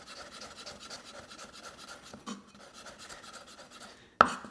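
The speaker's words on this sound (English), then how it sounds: "So I'm going to matchstick up my ginger. Just slice into it first." A knife saws rhythmically through fresh ginger on a board, cutting it into matchsticks with quick, close, rasping strokes, then a sharp knock near the end.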